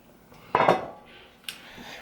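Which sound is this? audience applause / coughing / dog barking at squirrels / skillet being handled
skillet being handled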